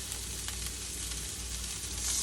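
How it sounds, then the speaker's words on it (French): Broccoli florets roast in a hot pan with garlic, giving a steady, close sizzle and frying crackle throughout, with no voices. "Alors là, je vais les faire rôtir. Comme ça, je vais mettre un peu d'ail."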